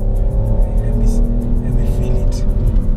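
A Peugeot 308 GT Line hatchback accelerating hard on a race track, heard from inside the cabin as a loud, steady engine drone with rising harmonics, while people talk over it.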